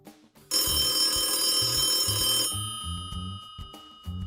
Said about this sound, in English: that's when the restaurant's phone rang